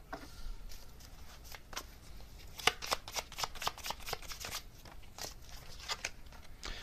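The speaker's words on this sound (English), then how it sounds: "Let me get one more card here." Tarot cards are shuffled and drawn by hand, producing close, soft riffling and snapping bursts in an irregular rhythm, quiet overall with a sharper flick now and then.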